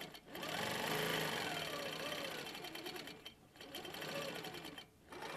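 A sewing machine runs in fast, steady bursts while free-motion quilting feather designs, its rapid needle hum speeding and slowing with two brief pauses, close and continuous.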